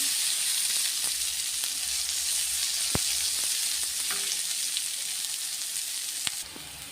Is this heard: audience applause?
no